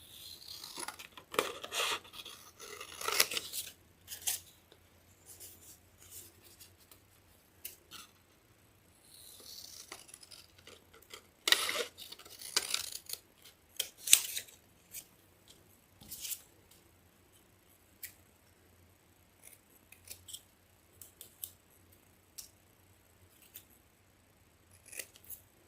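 Scissors snipping through paper card for a handmade Father's Day card, bursts of close cutting strokes with pauses between, quiet otherwise and no speech.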